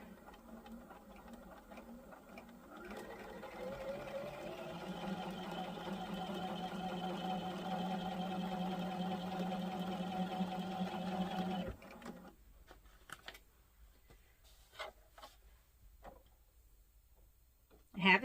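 A sewing machine joins quilt pieces for a wall hanging in one long, steady, close run that stops abruptly, followed by quieter handling clicks and rustles.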